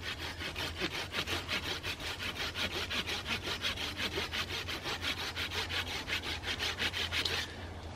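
A handsaw cuts through Australian hardwood in a long run of quick, even strokes, each a loud rasping pass up close, stopping shortly before the end.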